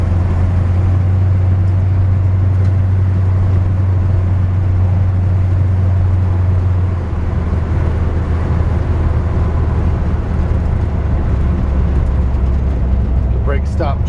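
A 1954 Chevrolet 5-window pickup fitted with a 454 V8 drives along with power steering, its engine giving a steady low rumble that shifts pitch about halfway through, heard from inside the cab.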